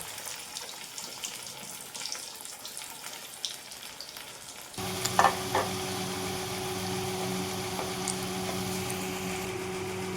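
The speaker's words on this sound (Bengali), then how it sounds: "এখানে কিছু ভাজা চলছে" Potato chops (aloo chop) in batter frying in oil in a wok, quiet at first, then a sudden louder, steady sizzle with small crackles once they go into the hot oil.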